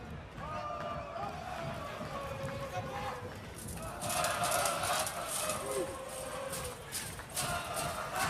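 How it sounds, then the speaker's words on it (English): Vermont supporters at the 2024 NCAA men's college soccer semifinal against Denver roar in a large outdoor stadium, a broad sustained crowd noise that swells and grows louder midway, with a commentator talking over it. "You can hear that's the Vermont crowd coming to life,"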